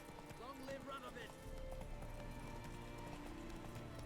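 A horse's hooves clip-clop at a gallop while it is ridden in the video game Witcher 3: Wild Hunt, a steady rhythmic pounding under game music and effects.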